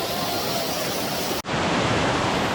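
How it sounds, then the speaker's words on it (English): A waterfall near Migori, Kenya roars close and loud as a dense, unbroken rush of water, with a momentary dropout partway through and no talking. "Come to Africa to have such this waterfall."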